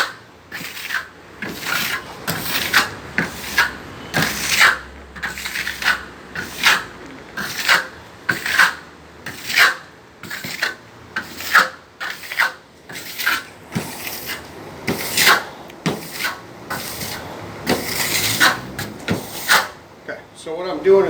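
A hand tool rubbed repeatedly across a drying raised surface to roughen it into a texture, producing rhythmic scraping strokes about once a second, close and steady, with a person talking over it.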